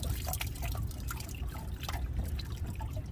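Water runs and trickles steadily during a boat water pressure check, a close, soft splashing flow with small drips, no talking.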